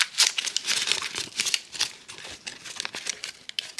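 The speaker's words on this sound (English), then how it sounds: "Here's another piece of freezer paper. I'm going to crinkle it up," A sheet of freezer paper is crinkled up by hand, giving a close, busy run of crackling and rustling bursts.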